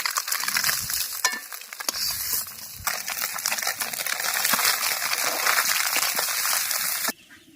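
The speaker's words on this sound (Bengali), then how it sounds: "একইভাবে বাকি মাছগুলো ভেজে নেব" Fish frying in hot oil in a pan gives a steady, close crackling sizzle that keeps going for about seven seconds and then cuts off sharply.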